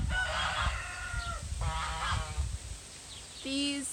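Agitated geese honk repeatedly on a rural Idaho homestead, mixed with rooster crowing and clucking nearby, a busy layered barnyard chorus with no talk.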